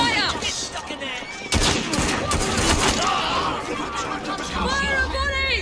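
Musket volleys in Assassin's Creed Syndicate, a sharp crackling burst of massed gunfire erupting mid-clip amid shouted battle chatter and game voices, with scattered shots continuing under the talk.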